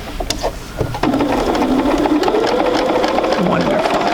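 A sewing machine runs steadily through a long seam on quilt fabric, a continuous near whirring stitch that starts after a brief pause, with a voice talking over it at the outset.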